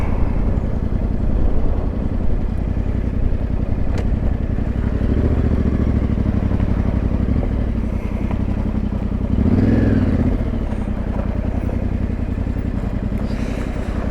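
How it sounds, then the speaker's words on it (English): A loud, steady engine drone comes from an off-road adventure motorcycle riding along the Trans Anglia Trail in East Anglia, holding a near-constant rumble throughout. "In fact, I'm going to park the bike there, out of the way."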